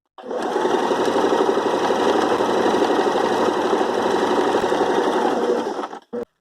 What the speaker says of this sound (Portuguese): Sempre coloque a agulha dentro do tecido antes de começar a costurar